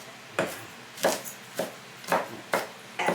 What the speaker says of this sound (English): just keep turning it over and chopping it